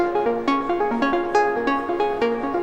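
A synth arpeggio runs through a Wellspring stereo spring reverb, a quick repeating pattern of bright plucked notes with a steady pulse, close and moderately loud, with a smeared reverberant tail between notes.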